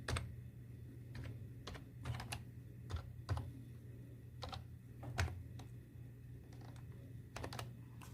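Keys click on a computer keyboard while a PAN card number is entered, quiet and close, in irregular bursts of single taps with short pauses, over a low background hum.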